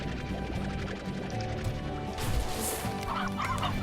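Chickens cluck in the video game Slime Rancher, with busy fowl-like squawks and honks over game sounds and a brief crash partway through.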